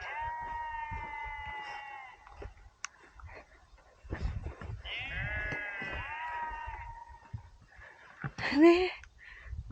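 A flock of sheep bleats repeatedly on a wet mountain trail on the Friendship Peak trek in Himachal, the quavering calls coming in bursts at moderate distance, with people talking and a sharper animal cry near the end.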